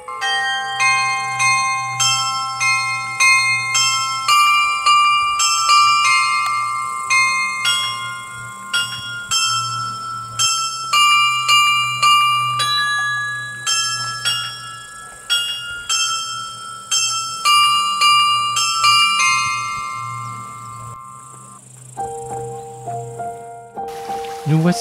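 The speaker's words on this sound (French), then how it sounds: "un joli clocheton habillé de cuivre qui possède un carillon de 20 cloches" A carillon of twenty bells in a small copper-clad bell tower chimes a melody, bright overlapping tones ringing one after another with long decaying resonance, clear and fairly close.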